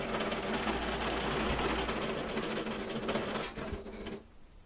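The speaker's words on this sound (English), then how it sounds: "I'm going to just guide you through and then keep serging." A serger runs steadily, stitching the back seam of a pair of pants with a dense, continuous mechanical whirr that holds close and loud before slowing and stopping near the end.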